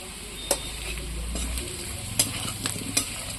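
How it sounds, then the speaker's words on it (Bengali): Potatoes fry in a pan over a wood-fired stove with a soft, steady sizzle. Several sharp clinks and scrapes from stirring break through it, and a low rumble sits underneath. "আলুটা কি সুন্দর ভাজা হয়েছে"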